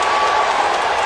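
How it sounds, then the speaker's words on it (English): Basketball arena crowd at a Kansas at West Virginia NCAA men's game roaring and clapping after a goaltending call, a dense, steady wash of applause and cheers filling the hall for the whole moment. "The crowd loves it."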